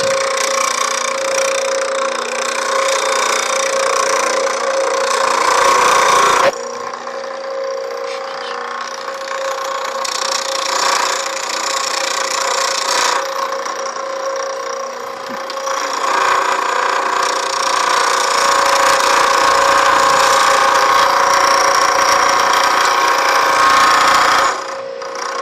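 Lathe tool ground on a bench grinding wheel with a Wolverine jig, a steady loud whirring hum with harsh gritty grinding that swells and eases as the tool passes back and forth across the wheel, with no talking.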